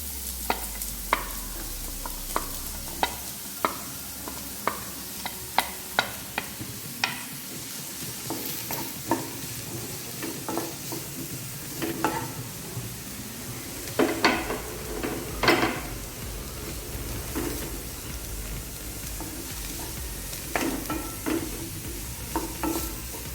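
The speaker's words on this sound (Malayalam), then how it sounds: "ഞാനിവിടെ ഒരു ടീസ്പൂൺ വെളിച്ചെണ്ണയാണ് ഫ്രൈ പാനിൽ ഒഴിച്ചിരിക്കുന്നത്. അതിലേക്ക് ഉള്ളി ചേർത്ത് കൊടുക്കുകയാണ്." Onions frying in a teaspoon of coconut oil in a frying pan, a steady close sizzle with frequent scraping and stirring clicks of a utensil against the pan, no voices.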